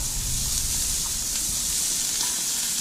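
Onions fry in oil in a pan with a steady, dense sizzle. The crackle runs unbroken and fairly loud for the whole stretch, with no voices over it.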